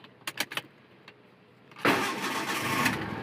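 A Proton Wira car engine is keyed and cranked, catching quickly into a steady idle. A few quiet clicks come first, then the engine fires with a sudden rise in noise and settles into a continuous close rumble.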